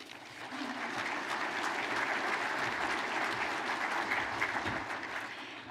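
Sustained audience applause at a regional chamber annual meeting, a dense steady clatter of many hands clapping throughout, full and close with no break.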